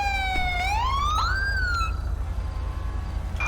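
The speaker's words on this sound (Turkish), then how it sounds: "Ben şu sireni bir kapatayım da." Police car siren in GTA 5 during a nighttime traffic chase, a loud wailing tone sweeping up and down for a couple of seconds before cutting off, over a low engine hum.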